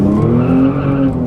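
Kia Stinger GT tires squealing in a sustained skid as the rear steps out, a loud steady tonal screech with engine drone underneath, close and continuous without any voices.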